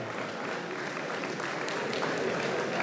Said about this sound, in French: applaudissements une nouvelle fois pour Yana, Justine et Alice.